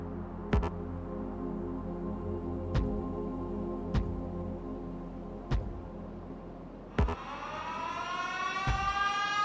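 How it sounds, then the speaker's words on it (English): An alarm siren wails in the video game Factorio, holding a steady droning tone broken by a few sharp clicks, then rising in pitch near the end. No one speaks. "The sweet, dulcet tones of the siren"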